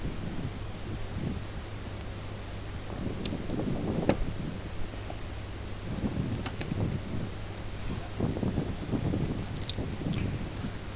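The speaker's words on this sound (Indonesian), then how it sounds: "Mohon maaf kalau angin cukup kenceng ya, ini kan di pantai di pinggir laut" Strong seaside wind buffets the microphone on a beach during a shrimp harvest, a constant rumbling gust with intermittent louder blasts and faint scattered background activity, no talking.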